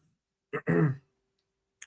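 A person with a cold gives a short throat clear and cough, two quick close bursts followed by a faint click, otherwise quiet.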